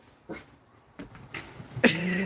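A female dog gives a few short, sharp barks or yips, spaced apart and building to a louder, nearer final bark, with no talking in between.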